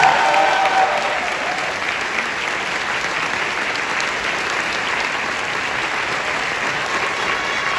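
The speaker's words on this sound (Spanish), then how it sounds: "un aplauso para todos, por favor" A theatre audience applauds the company at the grand finale of the musical Todo Mundo Habla de Jamie, a dense, sustained clapping that starts loud and settles into an even roar.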